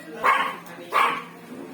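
A small dog gives two sharp, close barks about a second apart, followed by a fainter yip, loud against a quiet outdoor background.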